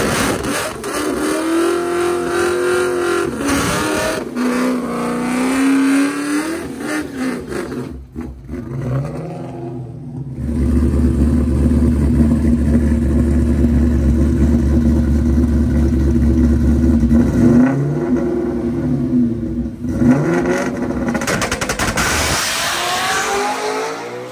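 Supercharged Cobra street car making a drag racing pass: engine revving and idling, then a loud, sustained full-throttle roar for several seconds before easing off, close and powerful.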